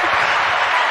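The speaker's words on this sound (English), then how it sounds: "But I'll give you a clap." A short, dense burst of steady applause on a podcast episode about student loans, loud and even throughout with no talking over it.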